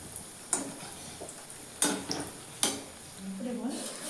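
Oil sizzles in a wok as fritters fry, with a few sharp clanks of a utensil against the pan breaking through the steady crackle.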